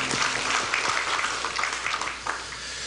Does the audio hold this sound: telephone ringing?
no